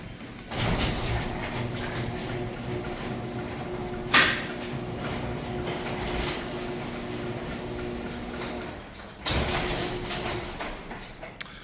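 A second garage door opener runs nearby as a loud, steady mechanical whir. Sharp clunks come near the start, once in the middle and again as it stops, with the motor droning between them.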